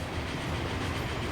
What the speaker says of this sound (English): it's a sleek looking train